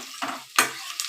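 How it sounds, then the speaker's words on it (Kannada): Onions frying in a pan with curry leaves, stirred with a ladle: two quick scraping stirs over a soft sizzle, close and clear, with no talking. "ಈ ಥರ ಸೌಟಲ್ಲಾಡಿಸಿ ಸ್ವಲ್ಪ ಹೊತ್ತು ಬೇಯಲಿಕ್ಕೆ ಬಿಡಿ"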